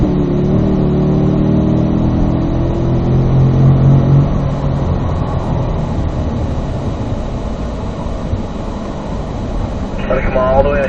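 A Corvette engine on a race track drones loudly and rises in pitch as it accelerates, with a shift into fourth gear partway through, under steady road and wind noise.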